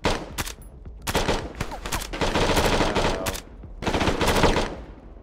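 Bursts of automatic gunfire and single shots ring out in a tactical shooter video game operation, loud and dense, in several clustered volleys with brief gaps between them.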